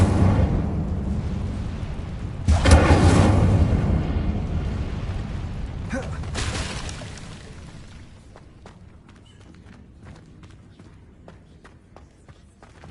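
A fire spell cast in Hogwarts Legacy erupts in a loud, roaring burst with a sharp onset, flares again shortly after, then fades into a quieter tail of scattered small pops and crackles.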